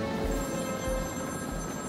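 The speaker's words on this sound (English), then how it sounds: "I'm not doing the ringing phone yet" A telephone rings in the video game Batman: Arkham City with a steady high electronic trill, repeating bursts over a constant synthetic background tone.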